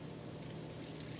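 Beef bouillon poured into a pot for an oil-free vegan meal: a brief, steady liquid rush, close and moderately loud, with no pauses.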